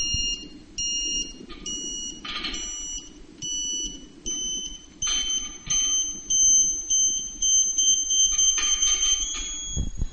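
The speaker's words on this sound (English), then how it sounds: "you can see the antenna movement as well as the beeper signals" High electronic beeps from a Tooway SurfBeam2 satellite antenna alignment tool, coming in short repeated bursts that lengthen and merge toward a sustained tone, over a low background rumble.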